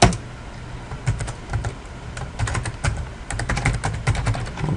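Keys clatter on a computer keyboard as a command is typed, a close, steady run of quick clicks and taps with short pauses, heard alone without talk.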